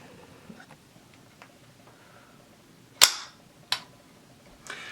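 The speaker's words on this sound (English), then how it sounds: "I'm just going to drop that, and that's going to drop my bolt." A Marlin 795 rifle's bolt slams forward with a sharp metallic snap, followed by a second quicker clack and a softer click, over quiet room tone with faint handling noise.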